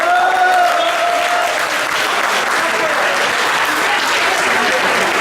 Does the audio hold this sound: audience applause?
yes